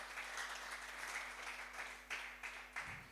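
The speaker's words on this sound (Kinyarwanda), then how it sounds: "Nimwikomera amashyi Imana." A church congregation claps for God, a soft, fairly distant patter of many hands that swells in a few short surges near the end.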